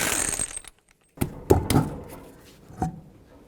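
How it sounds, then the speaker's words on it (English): Wheel lug nuts coming off a 2003-2007 Nissan Murano with a 21mm socket: several sharp metallic clinks and rattles, close, spaced irregularly after a short quiet gap. "take the wheel off, 21mm socket, remove all 5 of your lug nuts"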